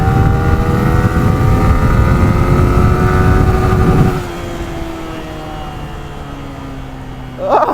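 A Yamaha R15 V3 motorcycle drag races an Ola S1 Pro electric scooter, the bike's loud, close engine droning at high revs before dropping to a lower, fading hum as it pulls away.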